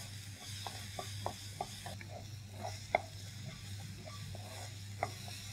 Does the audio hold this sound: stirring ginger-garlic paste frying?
yes